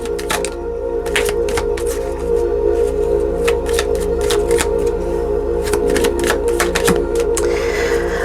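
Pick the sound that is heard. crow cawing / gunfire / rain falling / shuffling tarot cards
shuffling tarot cards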